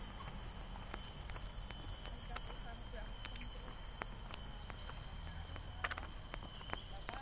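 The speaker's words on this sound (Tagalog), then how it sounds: "Oh guys, listen to the kuliglig." Crickets chirp in a quiet outdoor setting in the Philippines, a constant high-pitched trill, with faint scattered taps and footsteps underneath.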